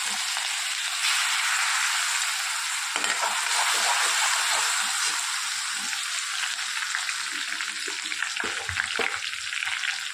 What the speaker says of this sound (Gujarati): શાક વઘારી દઈએ.